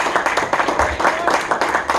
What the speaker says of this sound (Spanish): Vamos a darle un fuerte aplauso al Señor Jesús.